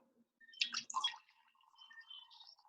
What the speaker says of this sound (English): The sound of me pouring some more wine